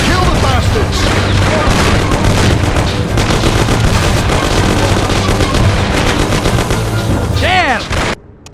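A shootout in the video game Mafia brings loud, dense, continuous gunfire with overlapping bursts and booms. Shouting voices mix in before the barrage cuts off abruptly near the end.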